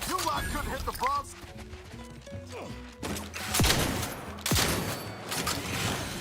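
Shotgun blasts and other gunfire from a firefight in The Outer Worlds 2 video game, several sharp bursts and cracks spread through the clip with clattering impacts in between, loud and close.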